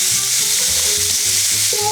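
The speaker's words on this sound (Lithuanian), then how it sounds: "Na, gal Krekenavos burgeriukai čirška" Krekenava burgers sizzle on a hot grill, a steady close frying hiss with faint crackle and no voices.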